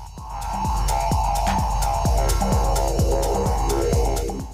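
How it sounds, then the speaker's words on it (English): A synth lead line played through a resonant echo performance effect, with repeating pitched pulses and sweeping resonant delay tails, steady and loud with a throbbing rhythm and no talk. "let's try the reso echo on the lead"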